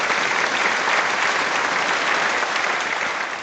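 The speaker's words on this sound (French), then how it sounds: "Maintenant nous accueillons avec des applaudissements M." Thick, continuous applause from an audience welcoming a man onto a stage at a formal event, even and sustained throughout before easing slightly at the end.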